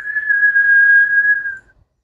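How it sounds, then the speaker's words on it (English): An Embraer E195-E2 jet engine gives off a steady high whistling wail as thrust is advanced, one clear sustained tone that holds for under two seconds and then fades out. "that sound, that wailing sound that we hear"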